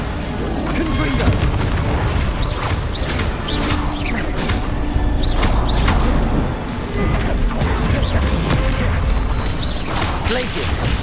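Confringo fire-blast spells in Hogwarts Legacy combat land as repeated booming, crackling blasts in a dense, loud battle din, with bursts following one another across the whole stretch.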